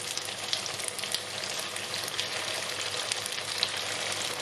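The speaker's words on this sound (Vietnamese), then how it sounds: "Cái chảo của mình chảo dày thì mình chiên lửa lớn" Steady, dense sizzling of food frying in hot oil in a thick pan over high heat, close and continuous with faint crackles scattered throughout and no voices.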